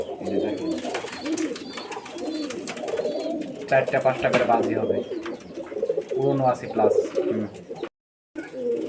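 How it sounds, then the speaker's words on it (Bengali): A collection of pigeons kept for sale coos in steady, overlapping calls close by, while someone talks over them. "আজকে যা কবুতর দেখাবো কালেকশনের সব কবুতর ধামাকা থাকবে"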